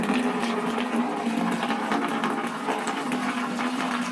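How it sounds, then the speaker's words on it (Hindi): Hot water pours steadily from the tap of a homemade PVC instant water heater, a continuous, close rushing and splashing flow that holds at an even level throughout. "अब जो है हम टूटी खोल लेते हैं और नीचे की तरफ आपको पानी दिखा देते हैं"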